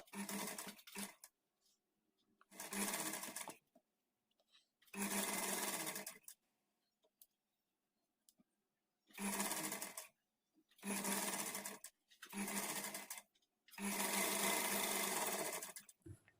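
A sewing machine stitching a blouse sleeve to the body piece runs in loud close bursts of about one to two seconds, separated by short quiet pauses, with no voices.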